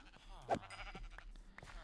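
Sheep in Minecraft, a single short bleat standing out over quiet game ambience, with a person speaking faintly around it.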